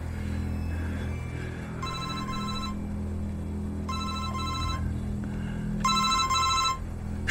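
A telephone rings in three short electronic bursts with pauses between them. The rings sound fairly close over a low, steady indoor hum, and no one speaks.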